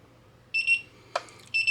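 A Konig 1.0 gun safe in learn mode gives short electronic beeps, two bursts with a brief chirp between, close and clear over a faint hum.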